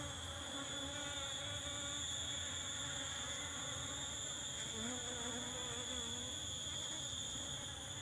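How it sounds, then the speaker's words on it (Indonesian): Trigona bees and honey bees feed on fermented cassava tape, a steady, close swarm buzz with overlapping wing drones and occasional nearer passes, constant throughout with no voices. "ini ada lebah trigona, ada lebah madu. Nah, ini banyak sekali yang mencari makan di sini."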